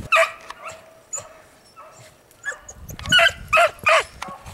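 Up-north outdoor outing: a dog lets out several sharp barks and yips mixed with whimpering, nearby and loud, with a cluster of barks near the end and no speech.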